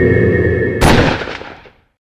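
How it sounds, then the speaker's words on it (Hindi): A single loud, sharp gunshot fired in anger during a domestic quarrel, cutting off a sustained tone and then ringing out into a decaying echo over about a second. "गुस्से में गोली चल गई"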